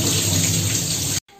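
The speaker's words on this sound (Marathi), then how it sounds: "हे मासे आपले मिठात ठेवलेले आहेत ना, ते आपले 2-3 पाण्याने धुवायचे." Fish pieces are rinsed under water: a steady, close rush of running water that cuts off abruptly near the end.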